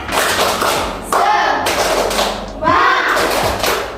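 Schoolchildren in a primary classroom perform a rhythmic spirit clap, bursts of sharp group claps and thumps in patterned rounds, loud and close, with children's voices chanting along.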